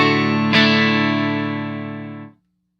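A single electric guitar chord from a Stratocaster's neck pickup, played through a UAFX Dream effects pedal, rings out with a distorted, effects-laden tone, sustaining evenly for about two seconds before cutting off abruptly.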